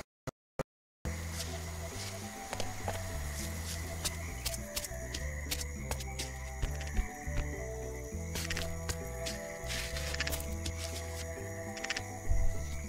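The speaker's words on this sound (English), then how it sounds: "Looks like a miserable toad or frog." A toad or frog croaking in the video game Candle, a repeated low rhythmic call sitting steadily under chirpy insect-like ambience after a few short clicks at the start.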